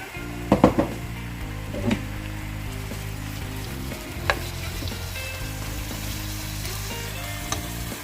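A generous amount of onion sizzles and fries in a hot pan for a tomato sauce with yam and tilapia, a steady crackling hiss with a few sharper clatters of stirring near the start.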